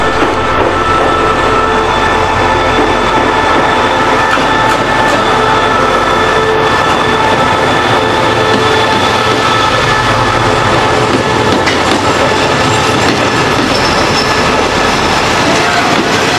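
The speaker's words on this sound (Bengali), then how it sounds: "তো ট্রেন চলে এসছে" An express train on Thailand's railway, on the route from Surat Thani to Bangkok, arrives with a loud, steady rumble and rattle of rail cars that continues without a break.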